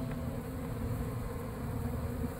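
A steady, dense buzzing of many honeybees hums continuously at close range, with no pauses or voices, during a hive removal from an apartment in Tampa, Florida.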